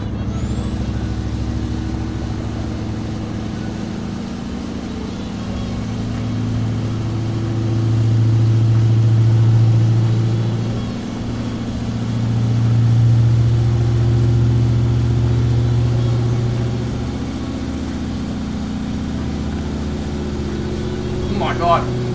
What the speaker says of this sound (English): Just enjoy the sounds of the truck.